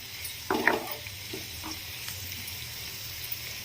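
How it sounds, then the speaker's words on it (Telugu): Tomato chutney cooking in a pan makes a faint, soft sizzle, with a brief scraping stir near the start and a few light clinks over the low, steady frying hiss. "మూత పెట్టి దీన్ని మంచిగా ఫ్రై చేసుకోవాలి"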